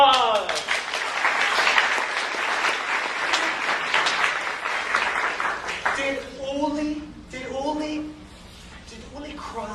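A classroom of students applauds for a classmate in a lively clapping burst that fills the first several seconds, then fades as children's voices and chatter take over.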